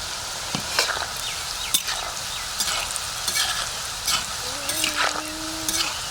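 Cut nimki dough pieces drop into hot oil and fry with a loud, continuous bubbling sizzle, broken by repeated scraping stirs and clinks of a spatula, plus a brief faint tonal squeak near the end.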